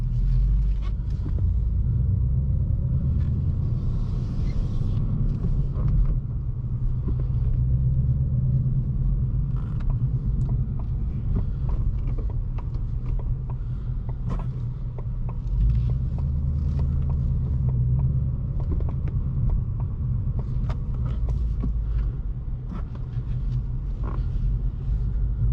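A 2019 Ford Mustang Bullitt V8 with a six-speed manual pulling away in first gear through a parking lot, a steady deep engine rumble and low cabin drone throughout, heard from inside with no talking.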